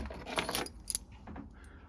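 Keys jangle and clink close by on board a Seamaster 30 boat, a bright metallic rattle of two or three quick shakes lasting under two seconds, with no talking.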